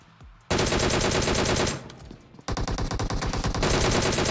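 DP-28 machine gun in PUBG Mobile on Erangel, loud rapid automatic fire in two long bursts separated by a short lull, each shot sharply pulsed and close.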